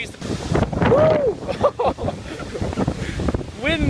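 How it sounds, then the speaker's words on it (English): Strong storm wind buffets the microphone in gusty, rumbling roars, while a voice shouts and talks over it. "I'm trying to now feel a bit of the wind."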